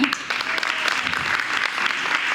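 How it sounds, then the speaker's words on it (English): An audience at a Grade 8 graduation ceremony claps in a dense, sustained round of applause, loud and close, steady throughout with no pause. "let's have another round of applause"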